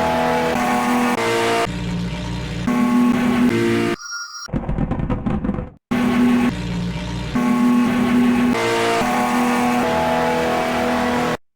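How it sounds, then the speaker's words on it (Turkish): A racing car engine in the racing video game Live for Speed roars and revs continuously, loud and close, with a brief break where the tone shifts before the steady engine drone resumes. "arabanın motor sesini seçmeniz lazım. Motor sesi bu."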